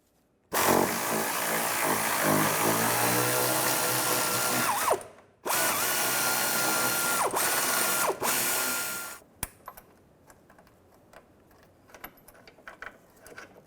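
A power ratchet loosens a bolt while replacing the clutch slave cylinder on a 2005-2010 Chevrolet Cobalt, running in two loud sustained whirring bursts of several seconds each, then a few lighter metallic clicks and taps afterward.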